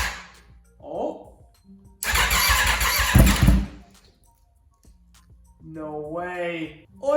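Aprilia RSV4 motorcycle, a wrecked 2021 bike being rebuilt, cranks over with a loud, rough burst of roughly a second and a half on the starter, set between short exclamations from a man before and after.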